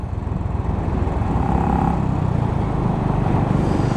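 A Royal Enfield Bullet motorcycle rides through the middle of town on a busy road early in the morning, its engine a steady, loud, close thumping drone that holds throughout with no talk.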